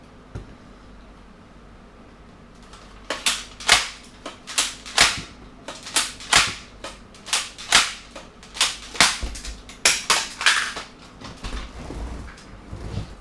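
A BoomCo Mad Slammer toy blaster is slam-fired over and over, with a rapid irregular series of sharp clicks and snaps, many of them jammed shots, close and fairly loud after a few quiet seconds, with no talking.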